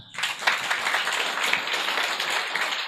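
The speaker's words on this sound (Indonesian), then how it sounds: "Aplaus untuk semangat." Audience applause and clapping at a motivational business meeting, a dense, steady roar of many hands filling the room without a break from start to finish.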